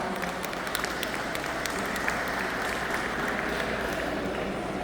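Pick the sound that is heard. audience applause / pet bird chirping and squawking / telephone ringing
audience applause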